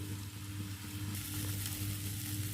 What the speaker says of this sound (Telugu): ఇప్పుడైతే ముక్కలు వేగినాయండి